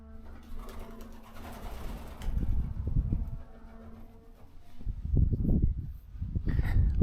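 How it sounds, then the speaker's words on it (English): Pigeons coo in an old bell tower, soft low throaty calls repeating in loose bursts against outdoor ambience with rustling and wind, moderately close. "Lots of pigeons up in the bell tower,"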